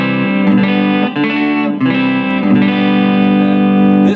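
Electric guitar played through a Roland Blues Cube amp on its clean channel: sustained chords ring alone in a steady run, with brief dips between strums.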